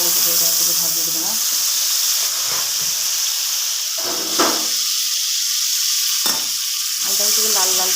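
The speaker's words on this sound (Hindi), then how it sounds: "आलूटा लाल लाल पकड़ भाजीदेमी" Potatoes fry in hot oil with a loud, constant sizzle and hiss, and stirring scrapes through it. A voice breaks in now and then.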